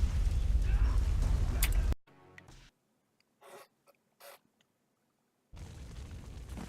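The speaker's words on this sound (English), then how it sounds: "Ow, that is a big explosion." A big explosion in the Jade Empire video game, loud and broadband for about two seconds, then cuts to near silence broken by a few faint bursts before a loud rumble returns at the end.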